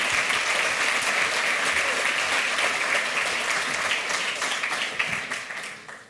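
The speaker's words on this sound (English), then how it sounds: "Please give them a warm round of applause" A conference audience gives a warm round of applause welcoming two speakers to the stage, dense sustained clapping that fills the room and tapers off near the end.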